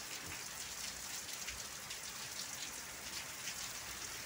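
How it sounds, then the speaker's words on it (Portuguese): Steady rain falls on a tiled roof in Pintadas, northeast Bahia, with water running off the roof tiles, a dense even hiss heard up close with no talk. "chuvinha boa nesse momento"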